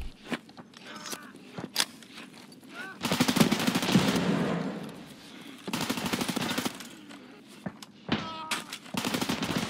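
Automatic gunfire in the zombie-clearing Lab raid of the shooter game Escape from Tarkov, with loud sustained bursts and scattered single shots, some footstep-like scuffs between them.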